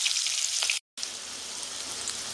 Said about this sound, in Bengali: আলুটা আমি একটু লাল লাল করে ভেজে নেব।